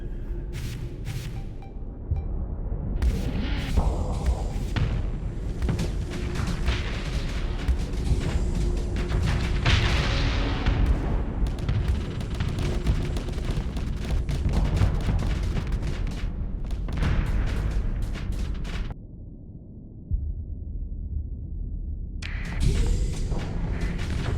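Spaceships blowing apart in a battle in the space strategy game Starsector, a dense run of booming blasts and crackling bursts layered over one another, loud and continuous with a brief lull near the end.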